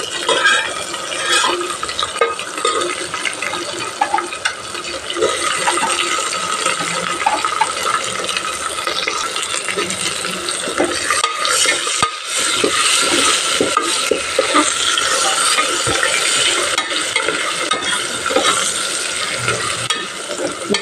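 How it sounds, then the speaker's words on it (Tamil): Onions fry with ginger-garlic paste in a hot pan for ghee rice, giving a loud, continuous sizzle with constant stirring scrapes and light metallic clinks throughout. "இப்போ வெங்காயம் சேர்த்திக்கலாம்."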